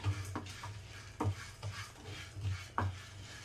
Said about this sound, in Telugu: శనగపప్పు కూడా వేగిపోయింది.